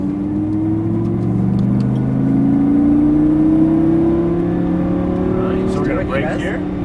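A Lamborghini Gallardo LP550 on a race track accelerating hard, its engine note climbing steadily and loud through a gear before a brief shift blip near the end, with someone talking over the sound.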